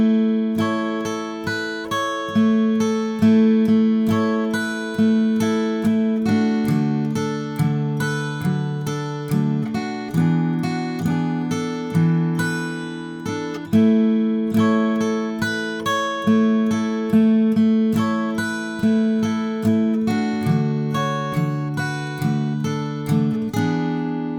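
Acoustic guitar strumming the verse of a song, a steady rhythm of bright chord strokes ringing out clearly and close for the whole passage, with no voice over it.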